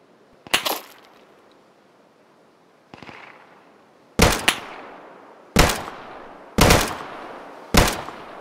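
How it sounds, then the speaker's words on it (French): Gunfire in the survival shooter Deadside: six sharp, loud shots with echoing tails, irregularly spaced and fired one at a time, with longer gaps early on and a quicker run toward the end, with no talk. "Ah, je tire complètement au pif."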